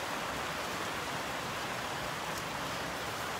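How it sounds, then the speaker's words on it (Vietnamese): Steady rain falls over a plant nursery selling orchids, a dense, even hiss of rain that stays uniform throughout with no voices. "Nó đang trên em nó hơi mưa cho nên là nghe hơi khó nghe"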